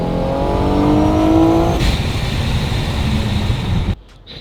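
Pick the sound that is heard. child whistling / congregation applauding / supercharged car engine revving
supercharged car engine revving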